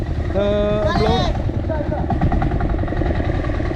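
A motor boat's engine drones loud and close as the boat turns to moor, a steady buzzing hum with a brief rising whine, while a voice speaks over it.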